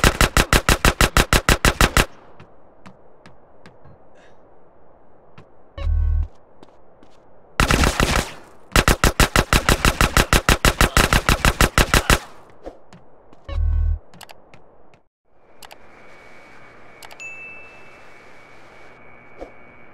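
Rapid automatic gunfire bursts in GTA San Andreas, loud repeated rattling volleys broken by brief gaps and a few heavier single shots, with no talk.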